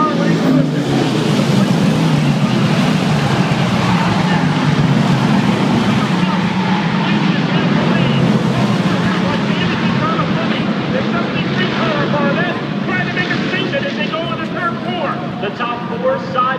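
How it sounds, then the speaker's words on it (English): Race cars rumble down the front straightaway of an oval track in a close pack, a loud, continuous engine roar that stays dense and steady throughout, with an announcer talking over it. "They come out of turn 4 simultaneously as they rumble their way down the front straightaway."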